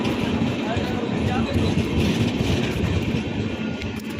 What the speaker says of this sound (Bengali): ট্রেন ঢুকে গেছে গাইস